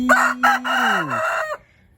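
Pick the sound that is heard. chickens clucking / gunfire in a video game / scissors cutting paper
chickens clucking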